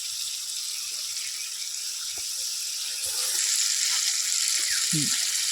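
A spice masala of turmeric and chili powder sizzles hard in a pan, then swells into a louder, steady hiss as a little water is poured in, close and continuous.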